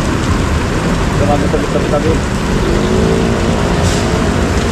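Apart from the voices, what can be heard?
heavy rain pouring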